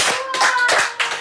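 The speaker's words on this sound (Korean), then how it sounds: "박수." A small group claps in brisk, close applause outdoors, quick hand claps overlapping in an even burst.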